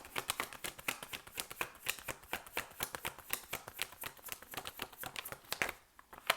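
Tarot cards are shuffled by hand in a fast, continuous run of crisp riffling snaps, close and fairly quiet, with a brief pause near the end.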